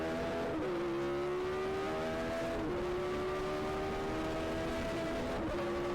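An early-1980s Formula 1 race car engine screams on an onboard lap at Spa. A constant, close, high-pitched whine climbs steadily through the revs, and the pitch drops sharply at three quick gear shifts.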